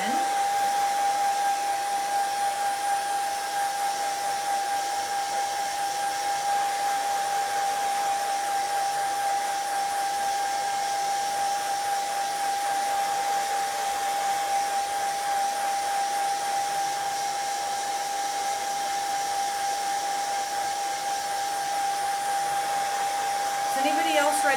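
A hair dryer blows steadily and loudly for the whole stretch, drying a transfer on a 2x4 board, its constant whirring hum unbroken from start to finish.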